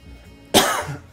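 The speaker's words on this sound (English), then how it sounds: "Got a little bit of a cough going on." One short, sharp cough from a person indoors, close and fairly loud against a quiet background, lasting about half a second.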